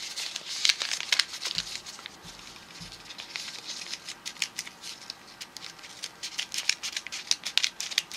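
Sharp scissors on a multi tool crunch through a sheet of paper folded many times, a run of quick snips and crisp crinkling up close and quiet, with no talk.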